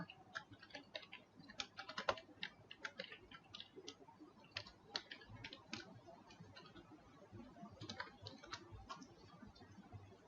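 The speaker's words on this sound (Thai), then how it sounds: "พิมพ์คำว่าโรงเรียนบดินเดชาสิงสิงหาเสนี 2 ลงไปค่ะ" Rapid clicking keystrokes on a computer keyboard, fairly quiet and close, running in uneven bursts with no voices.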